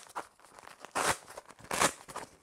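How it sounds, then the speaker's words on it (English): Velcro closure on a bag tears open in two short, harsh ripping bursts, close and fairly loud against quiet rustling. "it's a lot faster and quieter than having the entire top closed with Velcro"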